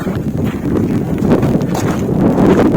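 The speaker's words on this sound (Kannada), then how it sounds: "ಗಾಳಿ ಎಷ್ಟು ರಭಸಾಗಿ ಬೀಳಿಸ್ತಿದೆ" Steady, loud wind roars across a microphone on the Kumara Parvatha trekking trail, a dense low rumble with gusty buffeting that never lets up.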